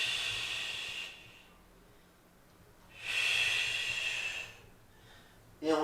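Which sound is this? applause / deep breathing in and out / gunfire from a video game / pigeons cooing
deep breathing in and out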